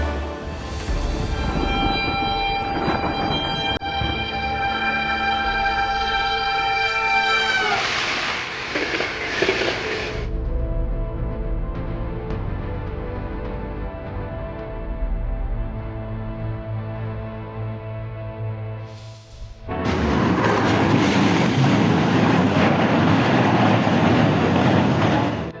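Two trains bear down on a truck stalled across the tracks, with a long sustained horn blast and rumbling rail noise giving way to a loud, harsh burst of crashing and grinding near the end.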